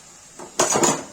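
Potatoes drop into a metal pan for an okra curry, a short clatter of a few quick knocks and rattles, close and fairly loud against a quiet kitchen.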